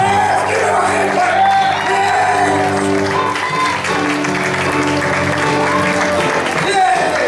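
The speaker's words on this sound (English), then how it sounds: "Give him a hand clap" A church congregation claps and cheers for someone during a worship service, loud, dense applause filling the room with shouts and whoops mixed in, steady throughout with voices calling out over it.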